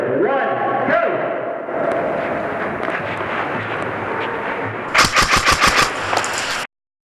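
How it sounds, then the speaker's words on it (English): Airsoft guns fire semi-auto during an indoor CQB team deathmatch at Ohio Valley Indoor: a dense run of sharp snapping shots, loudest in a quick volley near the end, over constant echoing arena noise and shouting. "This is semi-auto only, unlimited respawn."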